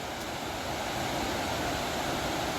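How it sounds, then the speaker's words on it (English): The Scantic River rapids rush in a steady, broad roar of flowing water along a hiking trail, a constant wash of noise heard alone without speech. "Those are the Scantic River Rapids."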